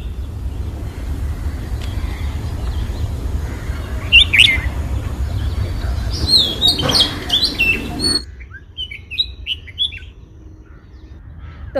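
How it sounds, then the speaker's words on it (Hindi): A bulbul sings outdoors among trees, its sweet, varied chirps and whistled phrases coming in short bursts over a steady low background hum, with crow-like calls mixed in and no talking. "उनकी आवाज़ सुन रहे थे, बहुत मीठा बोलती हैं। इनको नाइटिंगेल भी बोला जाता है"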